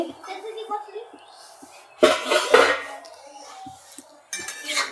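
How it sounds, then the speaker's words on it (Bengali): A lid comes off a cooking pot with a metallic clank and clatter, followed by further pot clinks, as a vegetable dish boils in a home kitchen. A voice speaks in between. "ঢাকনাটা খুলে দিচ্ছি"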